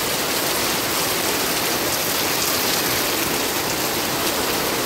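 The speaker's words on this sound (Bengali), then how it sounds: "জোরে বৃষ্টি শুরু হয়ে গেল।" Heavy rain pours down in a dense, constant roar that stays loud and unbroken throughout.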